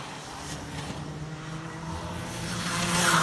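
Racing karts on a UK kart track during a Club 100 Super-cadet round, engines droning at a distance and swelling louder toward the end as they approach.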